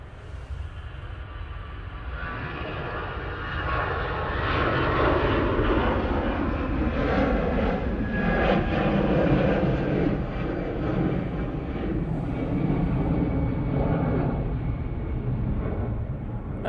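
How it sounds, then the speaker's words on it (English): An EasyJet airliner takes off at Manchester Airport, its jet engines building to a loud, sustained roar that holds steady from a moderate distance, with no voices over it. "Oh no, it's an EasyJet and it's off."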